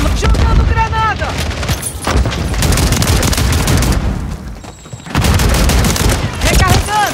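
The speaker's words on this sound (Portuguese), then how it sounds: "Jogando granada!" A grenade is thrown and explodes during Call of Duty Modern Warfare 3 gameplay amid dense, loud battlefield gunfire and booms, with brief dips in the noise and game voices calling out over the fighting.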